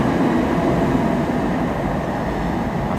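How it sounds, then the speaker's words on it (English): A train rumbles past at a steady, loud level, a continuous roar of wheels and cars on the tracks with no gaps. "Train going by there too."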